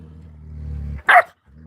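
A young puppy gives a short, sharp bark after a low rumbling growl, close and clear with no talking.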